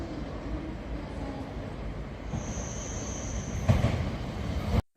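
Inside a Japanese 7 series Toki train running from Takasaki to Omiya, a steady low rolling rumble carries on throughout, with a thin high whine rising midway and a brief clatter before it cuts off abruptly.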